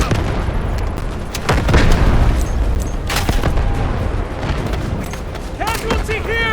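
Artillery barrage in the Delta Force shooter game: repeated booming blasts and scattered gunfire crackle through a dense battlefield din, several sharp impacts rising above the continuous rumble.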